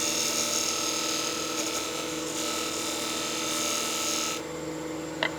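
A lathe tool lightly scrapes the face of a spinning wooden bowl, producing a steady close rasping hiss over a faint motor hum that drops away near the end, followed by a short knock.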